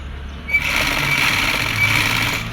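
A sewing machine stitches a seam on palazzo pants, running as a steady, close, whirring hum with a fast mechanical chatter through most of the stretch, after a short quiet start.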